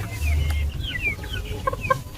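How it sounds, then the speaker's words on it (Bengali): Several chickens cluck nearby in short, irregular calls, with a low rumble underneath and a couple of sharper bursts toward the end. "দেখো মুরগিগুলো কত বড় বড় হয়ে গেছে"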